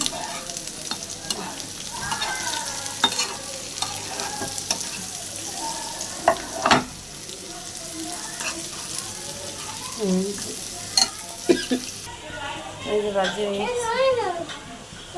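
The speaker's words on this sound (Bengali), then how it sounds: "হয়ে গেছে পিসটা অল্প একটু ভেজে নিচ্ছিলাম" Fish pieces frying in a pan give a steady, close oil sizzle with occasional stirring clatters, and voices, including a child's, talk over it toward the end.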